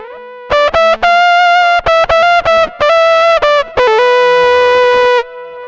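A Boss SY-1000 guitar synth set for a vintage analog GR-300 style solo sound plays a loud phrase of bright, sustained synth notes. A delay panned between 550 and 1100 milliseconds adds repeats that trail each note.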